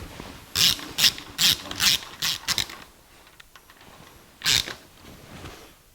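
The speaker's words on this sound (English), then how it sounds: "And put our shortened bolt in. And now it'll tighten all the way down." A ratchet wrench tightens a shortened bolt on a 1984 Jeep CJ7, a run of six quick clicking bursts, then a pause and one more burst, close and crisp with no voices.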